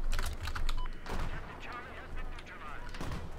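Rapid DMR rifle shots in Battlefield 4 on PC, a series of sharp gunfire bursts fired in quick succession amid distant battle noise, with someone talking over the shooting.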